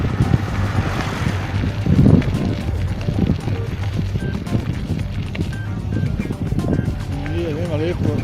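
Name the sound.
cold wind blowing while riding a motorbike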